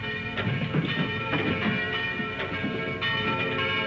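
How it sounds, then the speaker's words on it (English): A church bell rings in an old film soundtrack, with several resonant strokes sounding close together over a layered, continuous wash of ringing overtones, loud and with no voices. "of the bell that rang with no man alive to pull the rope"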